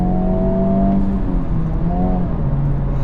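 A 2023 Honda Civic Type R with a manual gearbox revs up, drops as a gear changes, then climbs again. The engine drone is steady and loud, heard from inside the car.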